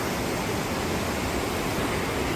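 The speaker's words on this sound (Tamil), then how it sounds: "அருவி விழுகிற இடத்தால் நடந்து போகிறேன்னு உங்களை காட்டுறேன் பாருங்க" A waterfall plunging inside a cave in Switzerland, heard up close as a steady, loud, dense rushing roar with no pauses and no voices.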